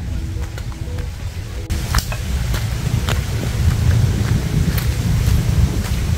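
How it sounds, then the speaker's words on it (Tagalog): Steady gusting wind roars close to the microphone, a low constant rush with occasional sharp crackles and knocks. "Mahangin ata ito."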